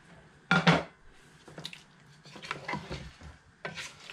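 Precooked beef for a beef curry (gulai daging) tumbles into a pot with a wet thud and clatter, followed by scattered scrapes, stirs and soft squishing of meat against metal.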